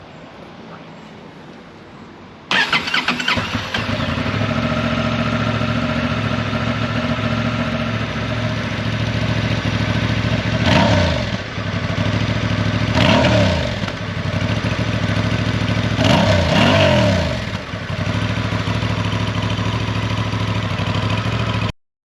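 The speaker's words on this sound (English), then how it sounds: "Let's hear what the engine start and exhaust sound is like." A 2023 Honda Transalp 750 motorcycle engine fires up after a brief starter crank, then settles into a steady, close exhaust idle with several short throttle blips rising and falling along the way.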